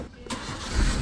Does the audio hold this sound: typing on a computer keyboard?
no